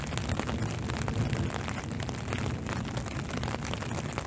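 Summer rain falling steadily outdoors, a continuous dense hiss of drops on surfaces with a low rumbling undertone, heard alone at a moderate, even level.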